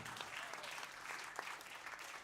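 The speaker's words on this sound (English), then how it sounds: "how about we all give a round of applause to the people that put this wonderful event together" Applause from an audience at a live event: a steady, dense patter of many hands clapping, fairly close and continuous throughout with no talk over it.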